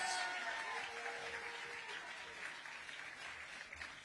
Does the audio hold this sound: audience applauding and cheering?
yes